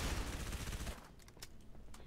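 Covenant Carbine fire in the video game Halo 3: ODST, a dense loud burst of overlapping shots for about a second, followed by a few quieter sharp cracks.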